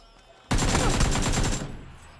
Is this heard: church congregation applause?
no